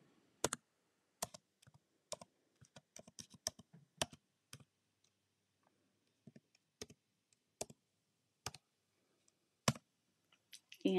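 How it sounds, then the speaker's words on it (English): Clicky keystrokes on a computer keyboard, typed in short irregular bursts with pauses between, close and fairly quiet, with no talking. "Here, let me type that in for you so you can see it."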